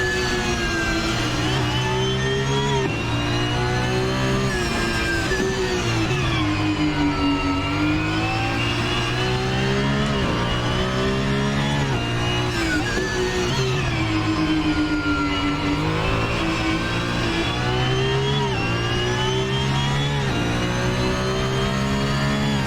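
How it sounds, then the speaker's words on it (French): Porsche 992 GT3 Cup race car on track, its engine loud and continuous as it brakes and then re-accelerates, with repeated rising and falling revs heard from close by. "On freine, on place la voiture, on réaccélère."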